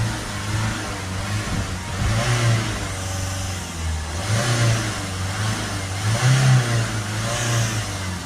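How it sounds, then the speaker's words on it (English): A Citroen Dispatch 2.0 diesel van with an exhaust temperature sensor and DPF fault revs up and down several times from idle, the engine close and steady with no talk over it. "Give it a few revs."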